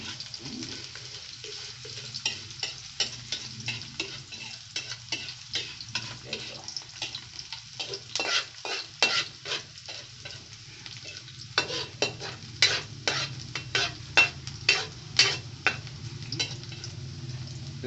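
Food fries in a pan with a steady sizzle, broken by repeated scraping and stirring strokes that come in bursts, close and moderately loud, with little talk.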